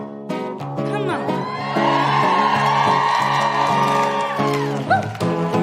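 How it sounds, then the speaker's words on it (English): A live audience cheers, whoops and shouts loudly with some clapping at a talk event. The noise rises and holds steady, and a speaker's voice can be heard over it near the end. "Thank you for the claps"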